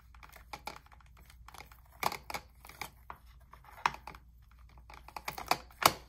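Close, crisp snipping and crinkling of dull scissors cutting through paper trim, in irregular bursts with short pauses, some cuts sharper and louder than others.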